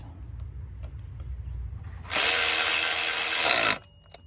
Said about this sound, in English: take your ratchet, tighten it up, just like this